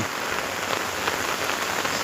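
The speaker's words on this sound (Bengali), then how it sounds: "এই যে দেখেন প্রচুর বৃষ্টি পড়তেছে" Heavy rain pours down in a dense, continuous hiss of drops striking surfaces, loud and even with no voices over it.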